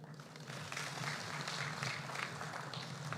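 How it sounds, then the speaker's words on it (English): An audience applauds after the launch of a national industrial policy, a continuous wash of many hands clapping at a distance, fairly quiet and sustained throughout with a low hum beneath. "Another round of applause, ladies and gentlemen."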